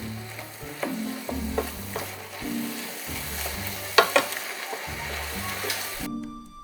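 Mushrooms and peppers sautéing in a pot for mushroom soup, a steady sizzle with intermittent spoon scrapes and clinks against the pot, nearby and fairly loud, with a low hum underneath and no talking.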